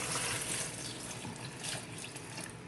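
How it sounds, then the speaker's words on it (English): Water poured from a bowl into a blender jar while making chiles rellenos, a steady close splashing pour that holds through without a break and with no one speaking. "And we're gonna throw in some water."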